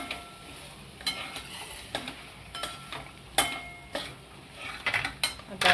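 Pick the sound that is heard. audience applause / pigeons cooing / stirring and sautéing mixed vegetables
stirring and sautéing mixed vegetables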